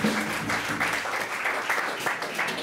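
Crowd applause at a jazz festival concert greeting a trombonist, sustained dense clapping throughout with faint band or room sound underneath.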